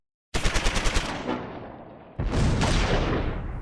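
Squad small-arms fire in Close Combat 4 aimed at a German Kommandowagen during a Battle of the Bulge fight at Monschau, December 1944: a rapid burst of about six loud machine-gun shots, a fading tail, then a dense sustained volley of gunfire.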